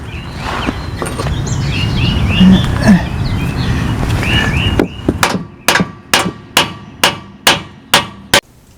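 Hammer tapping the nut on a lower control arm bolt during a suspension repair, seven sharp metallic strikes in a steady rhythm close up, following a stretch of outdoor background noise with birds.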